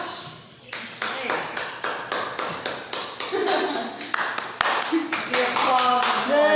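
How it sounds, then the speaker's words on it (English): Audience applause at a talk on HIV and addiction, a small group clapping in sharp, uneven bursts that build and continue for several seconds, with some voices and cheering mixed in. "The applause."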